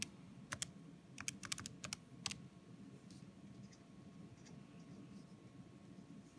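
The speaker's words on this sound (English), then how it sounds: "Type this in." Buttons pressed on a calculator while entering numbers for a chemistry solution calculation, a quick burst of light plastic key clicks in uneven rhythm, close and fairly faint over a low background hum.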